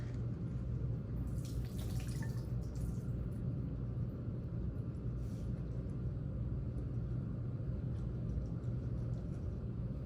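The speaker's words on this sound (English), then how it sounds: "I'm gonna take this over here to the sink, and I'm gonna pour out the water." Salt water poured from a cup into a lab sink in a biology class, a steady splashing wash over a low background rumble, with a few brighter splashes early on.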